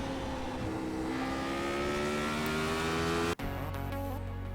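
An iRacing race car makes a standing-start launch, its engine droning and rising steadily in pitch under load, then cutting sharply at a gear change before pulling on at a lower note, loud and close.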